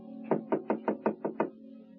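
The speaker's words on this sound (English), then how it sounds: "a knock at Gloria's apartment door" A knock on an apartment door: six quick, evenly spaced raps, close and crisp, then silence.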